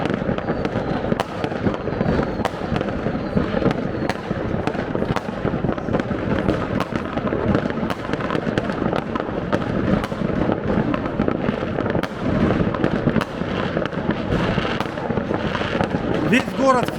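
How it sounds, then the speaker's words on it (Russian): New Year's midnight fireworks over a German city crackle and boom continuously, with rapid overlapping bangs and pops near and far, dense throughout, while people talk in the background. "мы решили посмотреть на фейерверк"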